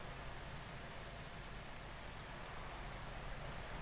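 Steady rain in the cycling video game Pro Cycling Manager, during a Giro d'Italia stage: a constant, even hiss of falling rain with dense broadband patter, filling the whole stretch with no voices.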